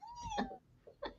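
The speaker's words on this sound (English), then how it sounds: "I don't know if you hear her meowing, but she's meowing" A cat meows softly indoors, one drawn-out wavering meow followed by a shorter second call, faint and close with no talking over it.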